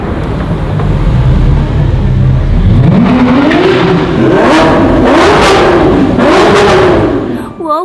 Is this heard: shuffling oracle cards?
no